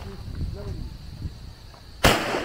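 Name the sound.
gunshot during firearm shooting training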